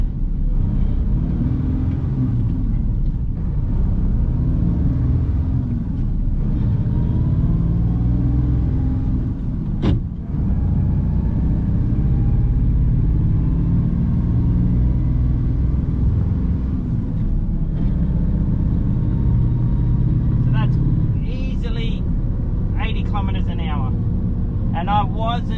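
A 300 hp Unimog U1300 truck accelerates hard in a drag race toward 80 km/h, its engine a steady loud rumble throughout, with a voice speaking over it near the end.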